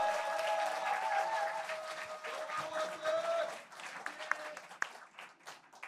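A crowd applauds a mayoral candidate at a Korean party election rally in Seoul. The clapping is moderate and mixed with tonal background sound, and it thins to a few scattered claps toward the end.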